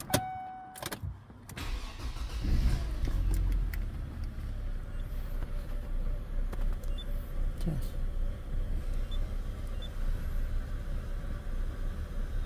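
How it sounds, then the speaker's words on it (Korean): A car engine cranks and catches after fault codes are cleared, followed by a low, rough idle humming steadily nearby from a car with a cut-off solenoid valve fault. "그러면 여러분 다시 시동을 걸어 볼게요"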